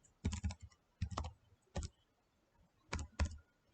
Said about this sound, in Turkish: Ve enter tuşuna basıyorum.